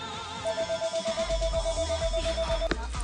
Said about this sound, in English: it makes it sound like a phone is ringing when it drips